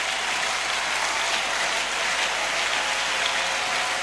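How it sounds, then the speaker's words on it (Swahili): A church congregation applauds vigorously during worship, a continuous dense wash of many hands clapping, fairly loud and even with no pauses. "Tupikie makofi na nguvu uwepo wa Mungu."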